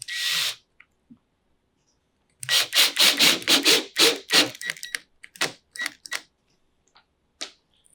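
A power driver drives screws into the back of a Vivarium Electronics Super70-5 Series II rack case in rapid bursts of whirring pulses, followed by scattered shorter buzzes and taps, up close with no speech.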